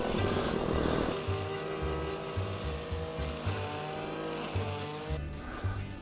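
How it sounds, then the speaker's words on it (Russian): A Caiman WM33 petrol brush cutter's small two-stroke engine runs continuously with a buzzing whine that wavers in pitch, close by, with no talking. "Японский двигатель работает тихо"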